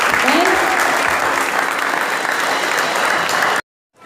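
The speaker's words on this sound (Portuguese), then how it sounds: "Dê um aplauso pela vida da Thaís" A church congregation applauds in a dense, steady wash of clapping that fills the room at full volume, then cuts off abruptly near the end.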